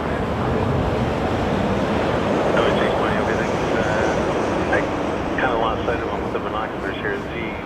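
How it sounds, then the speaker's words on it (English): Airliner taking off from a runway at Toronto Pearson Airport, heard as a steady, loud roar of jet engines mixed with wind noise, lasting the whole time, with a faint voice under it. "he looks like he's about to take off runway here"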